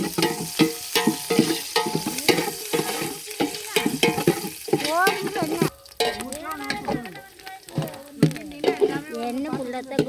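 Papaya fry being stirred in a pan outdoors in a forest: repeated scraping and clinking of a spatula over a frying sizzle, with people talking in the background.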